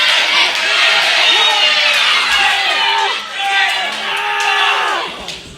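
A wrestling audience at an ORW Clash in Clacton event cheers at full volume, whoops and yells rising over a sustained crowd roar that dips briefly and then surges again.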